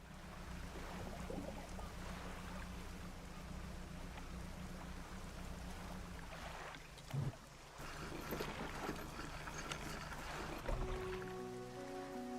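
Low, steady boat engine drone from the Lovecraftian fishing game Dredge, a continuous rumble that runs the whole stretch beneath a watery ambience, with a brief bump partway through and faint tonal layers near the end.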